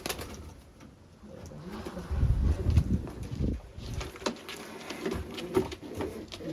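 Soft, low cooing of pigeons comes and goes in short murmuring bursts, with faint rustles and light patter around them; no voices.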